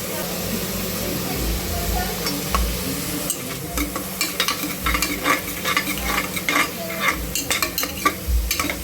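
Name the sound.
stirring tomatoes into sizzling fried onions in a pan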